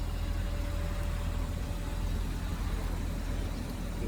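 Engine of a 1995 Toyota Celica idling steadily, a low, fairly quiet continuous rumble with no talking.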